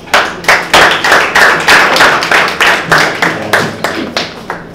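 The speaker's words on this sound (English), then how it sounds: "Please give me a big round of applause, ladies and gentlemen" A meeting audience breaks into steady applause at the opening of a Toastmasters gathering, with clapping that swells in loud, dense bursts and then thins toward the end. No one speaks over it.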